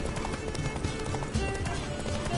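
A horse galloping in The Witcher 3 on PS4, rapid rhythmic hoof clip-clops running steadily throughout, loud and close against game ambience.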